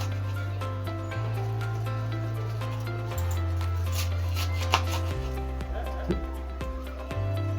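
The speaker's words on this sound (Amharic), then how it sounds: "አሁን ጎመን እየከተፍኩ ነው።" A knife chops cabbage on a board in quick, steady strokes, close and fairly loud over a constant low hum of background music.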